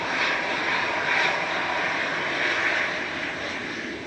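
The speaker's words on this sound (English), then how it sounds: "Heading off to Amsterdam with flight 2163. This is EZTK, A320 Classic." An easyJet Airbus A320 Classic, registration EZTK, departs Manchester as flight 2163 to Amsterdam: a steady, moderately loud jet engine rumble and hiss heard from a distance, with no voices.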